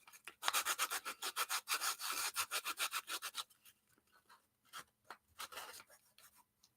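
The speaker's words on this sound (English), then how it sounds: "I don't know if the sandpaper would work" Sandpaper rubbed back and forth over cork: a rhythmic run of rasping strokes, close and fairly loud, then a pause followed by a few fainter, scattered strokes.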